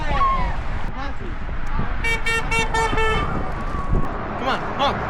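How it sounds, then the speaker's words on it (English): Car horns honk from passing traffic on a road, a few short toots and a longer blare mixed with engine and roadway noise, while people shout and talk over them nearby. "Honk if you're happy."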